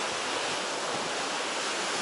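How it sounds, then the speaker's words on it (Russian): Rough sea surf pounding against rocks near a pedestrian bridge on the coast at Zelenogradsk, a steady, dense roar of breaking water with no pauses and no voices. "Море прям бьет об камни, да?"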